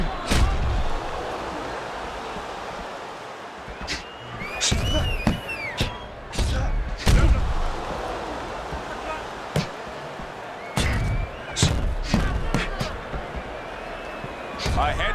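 Punches land and get blocked in the Fight Night Round 4 boxing video game: sharp, irregular slapping thuds come in short bursts across a steady crowd-like wash, while a commentator talks throughout.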